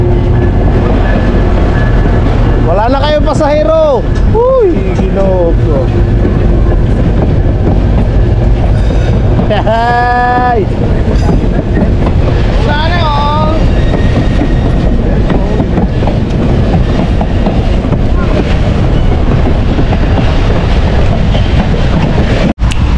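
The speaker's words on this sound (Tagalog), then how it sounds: "at least nasaksihan natin yung train na tumakbo" A train runs along the tracks at Skagway, its steady rumble continuous and loud throughout, with several prolonged screeching wheel squeals rising over the rolling noise and no talking.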